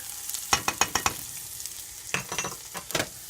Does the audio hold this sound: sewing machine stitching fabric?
no